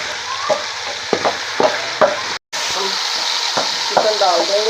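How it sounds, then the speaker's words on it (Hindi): Whole cumin seeds sizzle in hot ghee with a loud, steady crackling hiss close by, punctuated by a few spoon scrapes and one brief cutoff midway. "थोड़ा सा साबुत जीरा डालेंगे।"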